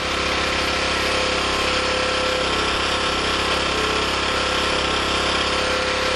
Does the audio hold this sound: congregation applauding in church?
no